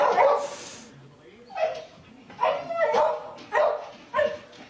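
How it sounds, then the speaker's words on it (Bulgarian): A dog barks in a string of sharp yaps and yelps, about five or six bursts spaced irregularly, fairly close and loud, with faint whimpering between them. "Ето това куче, малко атмосфера да оставим."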